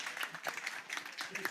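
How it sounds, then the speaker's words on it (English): Light, scattered clapping from a small audience thanking a conference panel, individual claps distinct and fairly quiet, with some voices underneath. "A round of applause for our panel"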